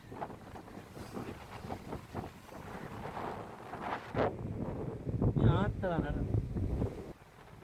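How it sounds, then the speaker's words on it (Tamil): Wind gusts steadily across the microphone on Poonakary beach in Sri Lanka, a rough, buffeting rumble that runs under people talking throughout. "காத்து அடிக்குது"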